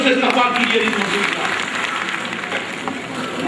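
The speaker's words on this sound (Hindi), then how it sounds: "जोरदार तालियों से इस्तकबाल कीजिए अनीस मंसूरी" A hall crowd at a Pasmanda Muslim community gathering in Lucknow applauds to welcome a speaker to the stage, a loud sustained burst of clapping with a murmur of voices mixed in, slowly easing off.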